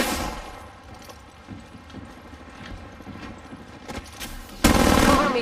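Gunfire in Apex Legends Mobile comes as a rapid rattle of shots under rumbling game noise, ending in a louder, sharper burst near the close.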